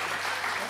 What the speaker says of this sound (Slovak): takže jeden potlesk pre ňo teď by som chcel